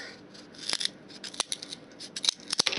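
Scissors cut material for a boat-in-a-jar model, a handful of crisp snips spaced irregularly, close and fairly quiet, with a quick cluster of cuts near the end.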